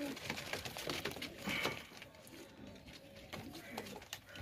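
Rampuri pigeons cooing softly in low, throaty bursts amid background noise and faint rustling.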